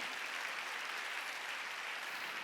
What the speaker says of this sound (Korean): 박수 치려면 치고 말려면